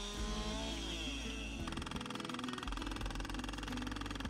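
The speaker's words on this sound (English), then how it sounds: "A chainsaw is used to sharpen untreated fence posts to drive into the stream bed." Chainsaw sharpening untreated fence posts outdoors by a stream, a loud, close engine that revs with a shifting pitch and then settles into a rough, buzzing cut.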